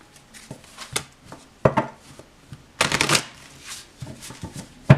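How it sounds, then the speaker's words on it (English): Close-up riffling and slapping of a deck of tarot cards being shuffled in several quick bursts, with brief pauses between. "We're just sort of putting energy into the read more than anything by shuffling."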